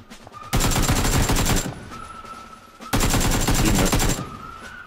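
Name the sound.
automatic rifle gunfire in the video game PUBG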